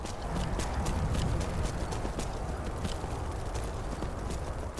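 In Skyrim, a horse's hooves clip-clop in a steady, fairly quick rhythm of sharp, moderately close clacks over a constant rushing background.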